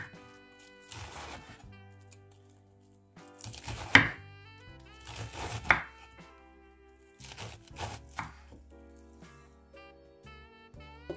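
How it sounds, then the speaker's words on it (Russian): A knife thinly slices napa cabbage on a cutting board in a few separate bursts of quick, crisp chopping strokes, close and clear, with quiet pauses between. "Нам понадобится пекинская капусточка. Мы берем ее, нарезаем"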